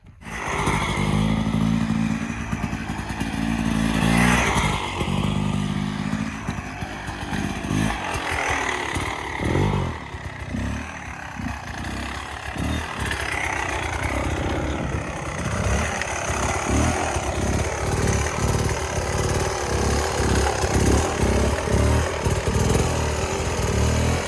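A dirt bike engine on an enduro practice ground revs and drones continuously as the rider turns tight circles at full lock, the pitch rising and falling with throttle, loud and close throughout.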